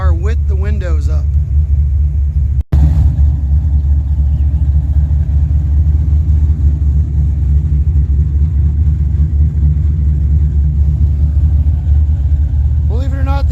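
Two car engines idle together in a steady low rumble, heard from inside a closed car with the windows up, with brief speech at the start and end.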